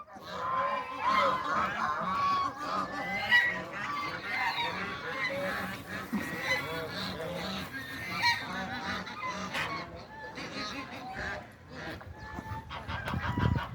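A flock of geese beside the Yeşilırmak river honks constantly, many overlapping loud calls close by, forming a busy, continuous chorus with a few louder bursts near the end.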